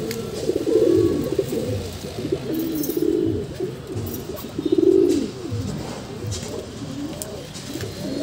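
Pigeons let out of a rooftop loft coo repeatedly nearby, with low rolling calls swelling into louder bursts over a faint outdoor background and no speech.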